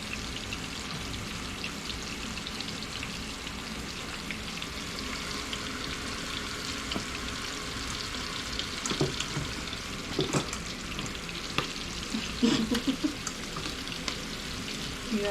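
Thick catfish pieces frying in oil in a pan: steady, dense sizzling throughout, with occasional louder pops and crackles, and no talking.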